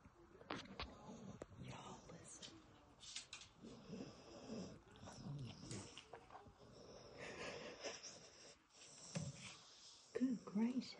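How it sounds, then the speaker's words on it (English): Snoring, a soft rhythmic rasp that repeats every second or two at close range and low volume, while people talk over it and other faint household noises come and go. "That's a lot of snoring."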